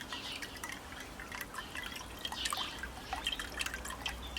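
Homemade grape molasses strained through cloth hung up to drain, giving irregular soft drips and trickles close by over a faint steady background, with no talking.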